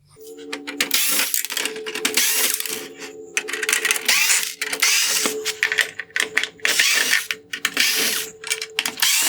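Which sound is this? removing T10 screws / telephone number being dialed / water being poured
removing T10 screws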